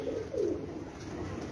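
Pigeons coo softly on a rooftop, with low throaty rolling calls close by over a faint background hiss.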